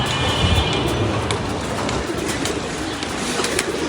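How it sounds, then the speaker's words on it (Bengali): Pigeons, including a male, coo in a steady low murmur amid constant broadband rumble and faint clicking flutters, with no one speaking. "একটা নর কবুতর এসে পড়ছে"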